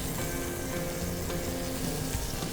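Butter sizzling in a hot pan alongside a searing steak on a patio: a close, steady crackle and hiss of frying fat that runs without a break through the brief moment.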